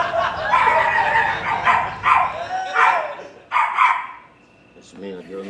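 A dog barks again and again in short, loud bursts that overlap with people talking, then the barking quiets to a low, faint sound near the end.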